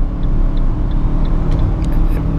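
A 2017 Fiat Mobi 1.0 flex engine drones steadily under load, a low continuous rumble as the car picks up speed, heard from inside the cabin.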